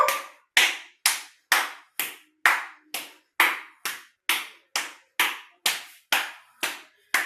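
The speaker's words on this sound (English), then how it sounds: "Clap back and front, free your shoulder." Hands clap back and front in a steady rhythm during a stretching routine for back pain, about fourteen crisp, close claps evenly spaced with brief silences between them.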